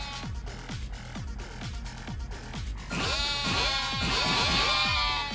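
Sheep bleat repeatedly in a Yakuza: Like a Dragon minigame, a rapid series of short bleats that grows louder and denser over steady game background sound, with no talking.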